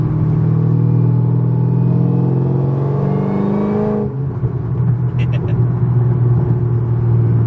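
A supercharged fifth-generation Camaro ZL1 with a manual gearbox and LSA blower, tuned to about 900 rear-wheel horsepower, pulls hard with a rising whining engine note, then drops after a shift to a lower steady rumble, heard loud and close from inside.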